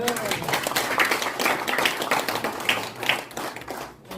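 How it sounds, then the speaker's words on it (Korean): Scattered clapping from attendees at a church general assembly officers' workshop, moderately loud and uneven, with murmured voices mixed in before it fades near the end. "서로 감사하다고 박수 한번 드리겠습니다"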